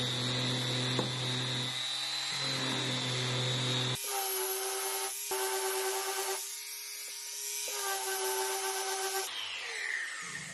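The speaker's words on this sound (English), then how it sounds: "So I have this sanding machine and this is what I'm going to use." A bench sanding machine grinds a small metal jewelry piece flat, its motor hum steady while the abrasive contact rises and falls in several passes of varying pitch and intensity, with no talking.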